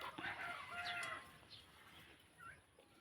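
A backyard flock of nineteen chickens, two of them hens, clucks and calls near and far, with a brief crowing phrase rising over steady outdoor background noise.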